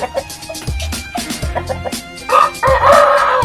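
A rooster crows loudly and close by in a single drawn-out call that rises toward the end, with a few clucks and rustles before it.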